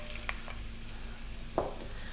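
Garlic and ginger sizzle in corn oil in a wok with a soft, continuous hiss, heard close and fairly quiet, broken by a couple of sharp scraping clinks from stirring.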